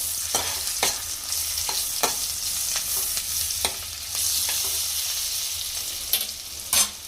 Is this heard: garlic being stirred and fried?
yes